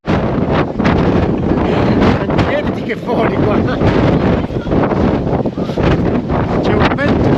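Strong gusting wind buffets the microphone on the Irish Atlantic coast, a loud, constant roar with rumbling bursts throughout, while a voice speaks briefly over it.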